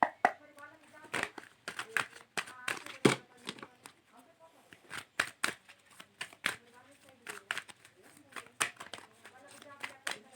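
Tarot cards being shuffled and handled during a Hindi reading, with repeated short crisp flicks and slaps of card stock, soft and close, interleaved with someone speaking throughout.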